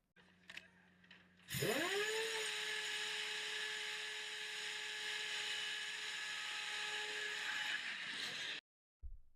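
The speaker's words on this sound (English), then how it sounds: "So that just gave you an idea of how the radar works." A mobile air defense radar powers up with a brief mechanical clatter, then a motor whine climbs into a steady high-pitched electric hum that holds for several seconds before cutting off abruptly.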